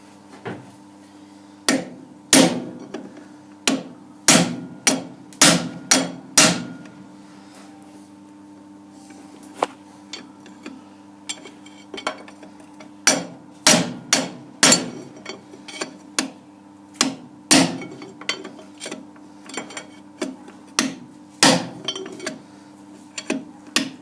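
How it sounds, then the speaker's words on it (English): Hammer blows drive a punch against a lathe headstock bearing in a vise, giving sharp metallic strikes in irregular clusters, some rapid and some spaced apart, with ringing resonance, close and loud. "now we can hit straight directly onto the bearing"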